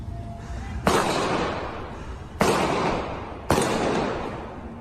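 Gunfire from a street gun battle during a Portland clash: three loud, sharp shots spaced over a few seconds, each trailing off in a long echoing decay outdoors, with no talking.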